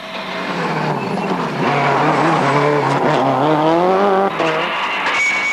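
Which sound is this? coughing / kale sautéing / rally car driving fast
rally car driving fast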